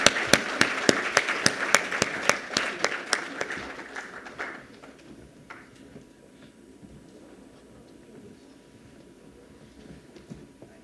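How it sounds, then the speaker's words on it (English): Applause at an energy summit for the domain experts, sharp, evenly spaced claps close by over a softer audience patter, thinning out after about four seconds into a quiet hall with faint scattered sounds. "So huge round of applause for all the domain experts."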